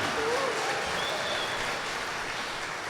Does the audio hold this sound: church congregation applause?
yes